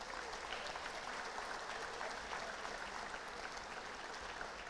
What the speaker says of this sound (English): I'd also like to give a round of applause to the 8th grade students